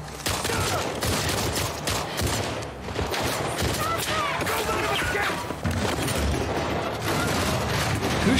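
Gunfire in The Last of Us Part II, dense loud bursts and crashes packed together under a constant roar of game action, with voices mixed in.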